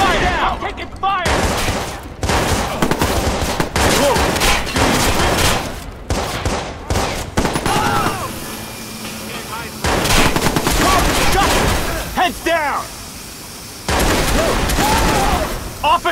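Rapid bursts of gunfire crack and rattle in a Watch Dogs shootout, clustered volleys broken by short gaps, with voices shouting over the firefight.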